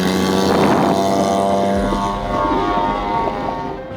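An F3P indoor remote control plane flies with a steady, continuous propeller drone, loud and near throughout, with a low rumble briefly dropping out partway through.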